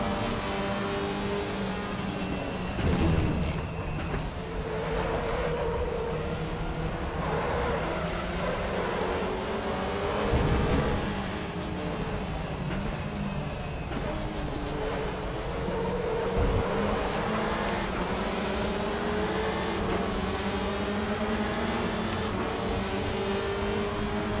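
Audi RS 3 LMS TCR race car from the WTCR 2019 series on the Autodrom Most circuit in RaceRoom, engine droning steadily and loud throughout, with several revving swells and downshift blips on a final lap.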